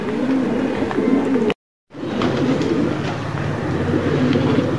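Pigeons being flown outdoors, with steady bird sounds and soft cooing over a constant low rumble, briefly cut to silence partway through.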